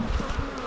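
Honey bees buzz steadily and close at an open hive during a hive split, a dense continuous drone of many wings with no talking.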